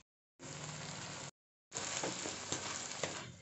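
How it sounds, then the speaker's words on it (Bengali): Chopped tomato and onion stirred in a hot pan for shahi paneer give a faint, steady sizzle in two stretches split by a short silence, with a few soft scrapes of the spoon near the end. "এবার এগুলো খুব ভালো করে আমি নাড়তে থাকব যাতে টমেটো এবং পেঁয়াজ এর থেকে যে জল বেরিয়ে আসবে"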